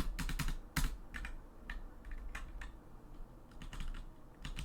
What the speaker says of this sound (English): So, I will now create some code down here, if I could type correctly.